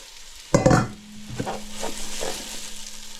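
Parsnips and carrots go into Ninja and Cosori air fryers: a sharp clatter of food dropping in, then soft sizzling and scraping over a steady low appliance hum, close and with no talking.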